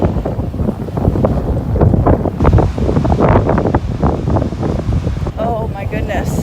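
Strong wind buffets a microphone outdoors beside the water on a windy day, a steady gusty roar throughout with a person talking over it.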